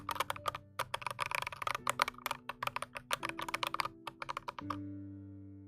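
Fast, clacky typing on a mechanical keyboard with its original keycaps, dense bursts of sharp keystrokes close up for several seconds before stopping, with no talking.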